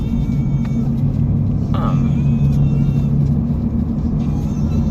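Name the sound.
car engine rumble while driving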